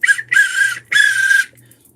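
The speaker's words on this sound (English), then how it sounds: "This is a big whistle." A big whistle is blown in three sharp, loud, shrill blasts, the first short and the next two longer, with brief silences between.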